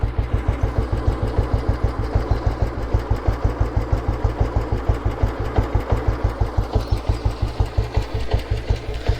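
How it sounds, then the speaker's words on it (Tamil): A 1978 petrol Bullet motorcycle engine idles steadily up close, a loud even chugging pulse that keeps a regular rhythm throughout. "இன்ஜின் வந்துட்டு ரொம்ப நாய்ஸில் வராது, ஸ்மூத்தான இன்ஜின் இது"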